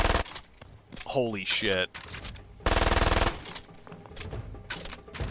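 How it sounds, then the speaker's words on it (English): A MAC-10 submachine gun in a video game fires rapid bursts in several loud, dense blocks of automatic fire, broken by gaps where a man exclaims and other game sounds clatter. "Let's see how fast the MAC-10 shoots, though."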